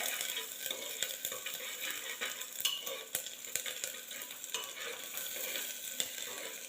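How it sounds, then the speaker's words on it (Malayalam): Finely chopped garlic and ginger fry in a pan as the base for a mushroom soup, making a quiet, steady sizzle. A spoon stirs with scattered light taps and scrapes, and no one talks. "വെളുത്തുള്ളി ചെറുതായി അരിഞ്ഞതും ഇതിലേക്ക് ചേർത്ത് കൊടുക്കാം അത് നല്ലതുപോലെ ഒന്ന്"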